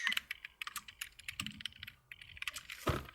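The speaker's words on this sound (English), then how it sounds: "you can also shift left and shift right, which you can also do by holding shift and clicking the left and right arrow keys." Computer keyboard keys are pressed in quick, irregular bursts of crisp clicks, close and fairly quiet, while someone works in music production software; no one speaks.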